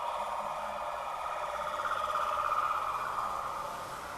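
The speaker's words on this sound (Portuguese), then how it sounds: "Olha a ambulância." An ambulance siren wails steadily from a moderate distance, holding a continuous tone for several seconds with no voices over it.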